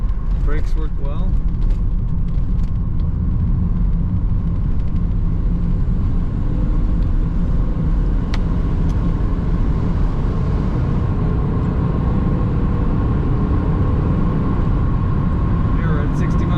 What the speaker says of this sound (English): We're at 60 miles an hour. Slight wind noise from the convertible.